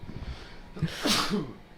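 A single sharp sneeze bursts out near the mic, preceded by a quick intake of breath.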